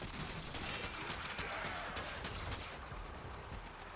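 Attica crossbow from Warframe firing in rapid succession over dense, continuous game-combat noise, a steady loud wash of shots and impacts throughout.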